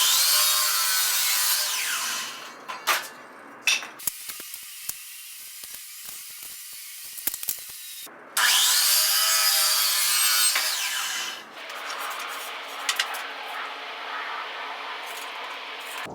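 A saw cuts a miter through wooden crown moulding in two loud, close bursts of harsh rasping, separated by quieter scraping and handling. Softer rubbing follows at the end.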